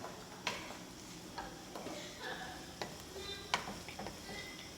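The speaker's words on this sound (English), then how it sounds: "we're going to stir our shrimp" Shrimp being stirred in a hot frying pan with Cajun seasoning and bacon, giving a steady sizzle broken by several sharp scraping clacks of the utensil against the pan, close and moderately loud.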